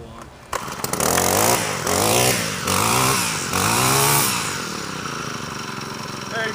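A Honda four-stroke string trimmer pulls over a few times with short revving bursts, catches and runs loudly, then drops back to a steady, quieter idle.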